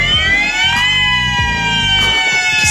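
A wailing emergency siren blares loud and close, its rising and falling tone repeating in steady sweeps over a rumbling background, with no voices.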